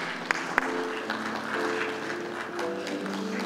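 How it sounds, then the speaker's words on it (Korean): A hall audience applauds at a county governor's retirement ceremony, steady clapping of a moderate crowd heard from a little distance, with a couple of sharp claps near the start. "큰 박수 부탁드리겠습니다"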